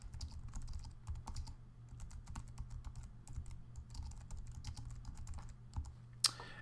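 A short note typed on a computer keyboard, quick irregular key clicks heard close and clear over a faint steady hum, with one sharper tap near the end.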